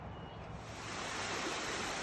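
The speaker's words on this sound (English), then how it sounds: "here's the first waterfall to come to. Small one there" A small waterfall on a mountain creek in the Great Smoky Mountains, a steady broadband rush of falling water, fairly faint and constant, with no voices.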